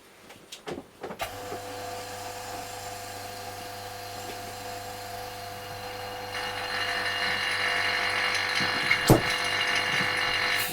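A hand jar capper screws down a lid, giving a steady mechanical whirring grind with a few clicks at the start and a brighter, louder tightening tone toward the end, close and alone.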